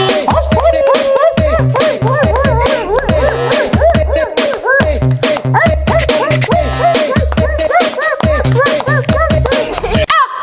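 A dog makes a loud, fast run of yips, whimpers and bow-wow barks in a steady rhythmic pattern that repeats throughout.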